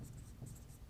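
A pen or chalk writes notes in Hindi during a physics lesson on semiconductors. Quick, faint scratchy strokes come in short bursts, close by.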